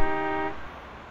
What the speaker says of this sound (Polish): Kto tam trąbi?